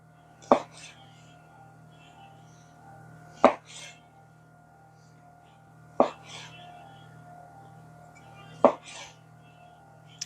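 Red grapes are sliced in half on a cutting board for a chicken salad. Four sharp, separate knife taps come a few seconds apart over a quiet background hum.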